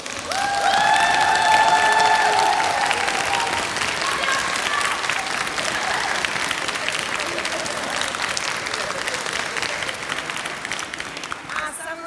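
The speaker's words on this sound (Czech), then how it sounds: "prosím potlesk" Audience applause with some cheering at a choir's Christmas concert in Velim, given to the accompanying band; dense, steady clapping throughout that thins toward the end, with faint voices mixed in.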